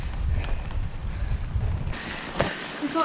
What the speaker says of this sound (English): fortunately the wind's behind us today, or right now, so it's blowing us up a little bit